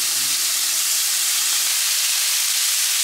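Steady broadband sizzling hiss of seasoned catfish frying in a hot pan, loud and continuous, with a faint low hum fading out midway.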